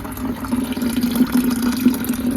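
Tap water pours steadily into a container, a continuous close splashing fill with faint background murmur and no talk over it.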